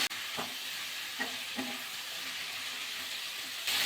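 Potatoes and greens being stirred in a frying pan for a Bengali pui mituli chorchori, a steady broadband sizzle with a few soft spoon scrapes and stirs, close and continuous, no talking.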